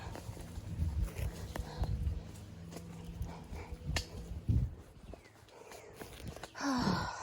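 Horses brought in at a barn, their hooves walking in an irregular clip-clop, fairly close, with rustling and low background noise and a brief vocal sound near the end.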